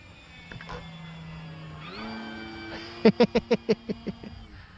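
An FMS Pitts 1400mm RC biplane making a pass: a steady electric-motor whine that climbs in pitch, followed by a quick series of sharp rhythmic pulses that fade, heard alone.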